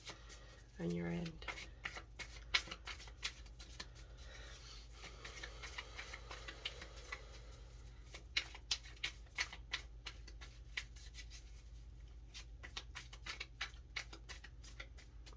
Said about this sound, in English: don't know why I'm shuffling.